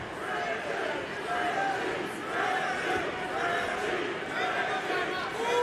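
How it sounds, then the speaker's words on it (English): Crowd noise at a mixed martial arts fight, a steady loud wash of voices and shouts of encouragement filling the arena throughout, with a commentator talking over it. "Got the crowd looking to try to give some kind of encouragement to Richie Smullen."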